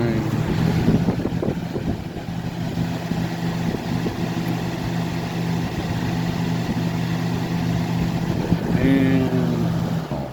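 A Lasko model 3750 Ultra pedestal fan, a 2000-2001 unit, runs steadily on its high setting, giving a loud, even whoosh of moving air with a constant low motor hum throughout.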